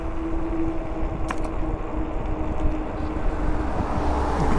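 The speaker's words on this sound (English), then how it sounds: "but there's a car coming." A car rolls past on a stormy winter road, its low rumble rising out of a constant roar of wind buffeting the microphone of a moving e-bike; no voices.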